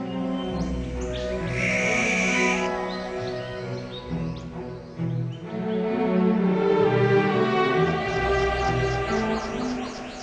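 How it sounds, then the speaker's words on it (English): Mixed bird cries and song carry through the whole stretch, a dense layer of calls with a brief shrill whistling burst early on and steady chirping throughout, fairly loud and without talk. "Birds communicate through cries, songs, and body language."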